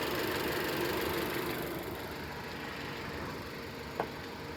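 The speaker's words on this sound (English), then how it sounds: "The compressor is spinning." Jeep Renegade engine idling with the AC compressor spinning and its clutch engaged, a steady mid-pitched mechanical hum and whir under the engine, fairly loud throughout with one brief click near the end.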